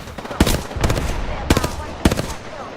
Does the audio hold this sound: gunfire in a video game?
yes